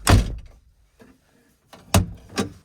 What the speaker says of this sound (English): I just temporarily put the door handle back on here so that I can show you that it's working now.